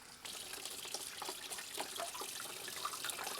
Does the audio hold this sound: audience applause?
no